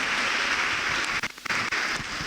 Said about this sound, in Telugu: గట్టిగా చప్పట్లు కొట్టండి, గట్టిగా కొట్టాలి గట్టిగా